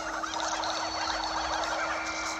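Blue chicken creature in Pikmin 3 Deluxe gives a steady, continuous gobbling squawk, loud and close, over a constant electronic hum, with no talking.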